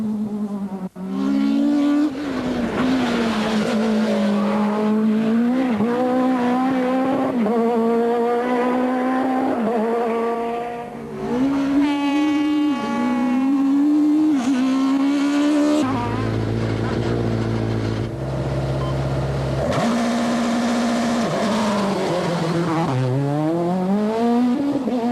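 Citroën rally cars at the Rallye d'Ypres 2000 roar past with loud, sustained engine notes rising and falling through gear changes, pitch sweeping as they pass close by, continuous throughout.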